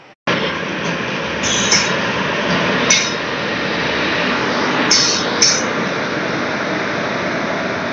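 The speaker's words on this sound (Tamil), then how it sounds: "ஃபைனலி நம்மளுடைய உழவன் வண்டி வந்துருச்சு" The Uzhavan Express pulls into a station with a loud, continuous rumble of rolling wagons, punctuated by several high metallic wheel squeals and clinks, heard up close.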